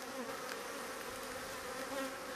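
Honeybees inside a hive fanning nectar, a dense continuous buzz of many wings held close and steady for the whole moment.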